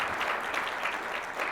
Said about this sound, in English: Can we give a huge round of applause to all of the 5 startups that pitched today?